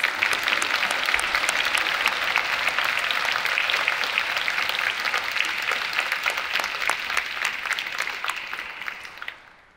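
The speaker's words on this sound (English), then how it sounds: "if that and the orchestra's terrific performance doesn't deserve another round of applause" Steady audience applause at a university centennial jubilee, a dense wash of many clapping hands at moderate level that fades out in the final second.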